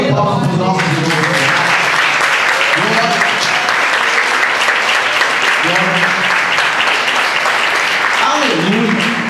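A church congregation claps in applause at a service, the dense clapping steady and loud throughout while voices speak and sing over it at intervals.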